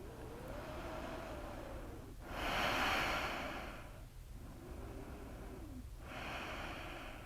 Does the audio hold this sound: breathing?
yes